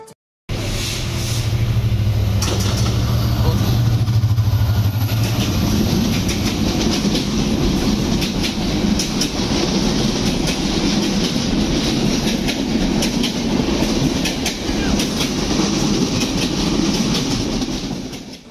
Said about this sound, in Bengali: আমাদের বাংলাবান্ধা এক্সপ্রেস ট্রেনটি স্টেশন থেকে ছাড়ে এবং আমরা আবার যাত্রা শুরু করি